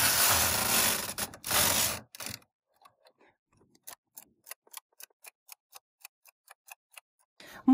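A single-bed knitting machine knits rows of mohair yarn at tension 6, the carriage sweeping loudly across, then a quiet series of regular mechanical clicks and ticks.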